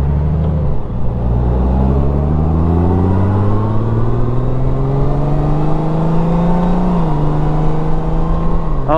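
A 2019 Honda Goldwing DCT trike with one front wheel rides along at steady speed, its engine hum rising through the gears in smooth sweeps with constant road and wind roar, loud and close.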